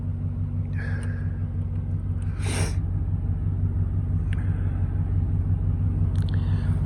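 A 2013 Chevy Silverado 1500 engine idles smoothly on fresh spark plugs, a steady low rumble heard from inside the cab with a few faint clicks and rustles over it.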